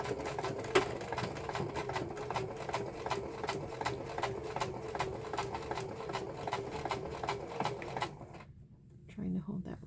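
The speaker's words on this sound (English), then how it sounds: "I'm going to sew across this whole thing" A sewing machine runs at a steady pace, stitching across a rice-filled lavender sachet made from a scrap napkin. A fast, even whir of needle strokes carries on for several seconds and stops near the end, followed by a brief rustle.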